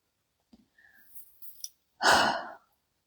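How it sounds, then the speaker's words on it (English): Deep breathing during a meditation session: a few faint, quiet breaths and small mouth sounds, then one long, louder exhale like a sigh lasting about half a second, close to the microphone, with no talking. "And please breathe."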